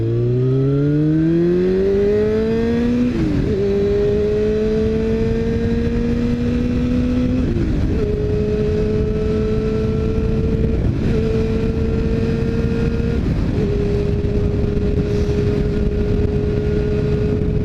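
A Yamaha R6 sport motorcycle climbs through the revs in low gear, then holds a steady, high-pitched engine drone with a few brief dips at gear changes; loud and continuous from the rider's position, with wind roar underneath.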